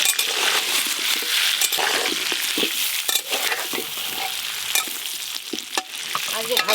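Cut potatoes with turmeric and salt fry in mustard oil, sizzling loudly while a utensil stirs and scrapes the pan with repeated clinks, close up and with no talking.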